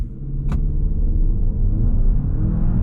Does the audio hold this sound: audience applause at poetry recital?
no